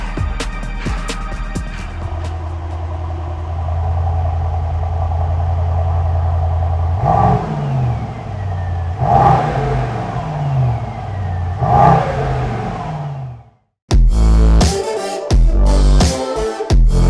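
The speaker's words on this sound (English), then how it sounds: "this is the reason behind all the noise, and it's a good kind of noise because this is the tried and tested V8 4-liter" A Mercedes-AMG GT 63 S E Performance with its 4-liter V8 revs loudly and close by, with a steady idle broken by three sharp throttle blips, then a brief drop to near silence and a burst of harsh, choppy engine roar.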